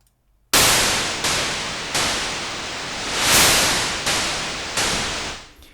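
Synthesized Batman-style drum hit built from a noise module with modulated color, struck six times in a steady rhythm, each loud broadband burst decaying before the next, with one swelling hit in the middle.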